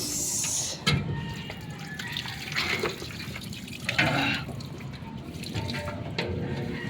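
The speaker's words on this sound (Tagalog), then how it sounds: "Pansin nyo, mutulo ng tubig." Water trickles and drips steadily nearby from a leaking pressure tank, with a few louder splashes and clunks in the mix.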